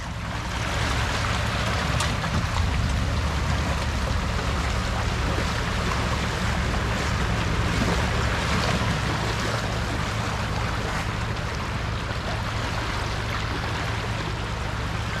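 A four-wheel-drive towing a toy hauler splashes through a water crossing in Cape York, a dense, continuous rush of churning water and spray over a low engine rumble, loud and unbroken.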